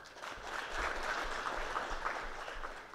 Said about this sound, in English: Let us remember those children with a round of applause